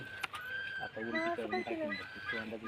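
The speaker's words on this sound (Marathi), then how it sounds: "पक्ष्यांनी गोंधळ घातलाय नुसतं" Birds squawk and honk in a cluster of harsh calls, fairly faint, with some voice-like noise mixed in.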